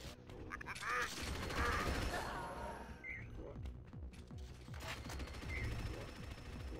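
A flak cannon fires in a video game amid dense, busy battle noise: steady rumbling blasts with scattered sharp effects, fairly loud and continuous throughout.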